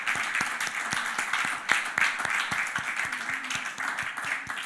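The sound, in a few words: church congregation applauding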